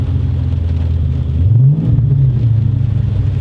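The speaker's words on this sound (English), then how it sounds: "I know I'm going to get yelled at for revving a cold engine" A car engine on a cold start rumbles loudly up close, rising into a brief rev and easing back down to a steady idle.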